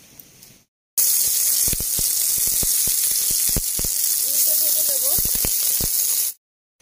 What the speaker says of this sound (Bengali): সমস্তগুলো বানানো হয়ে গেছে, এবার ভেজে নেব।